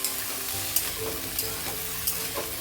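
Potato, eggplant and peas sautéing in a pan give a steady close sizzle, with a few sharp scrapes and knocks from stirring at regular moments and no talk.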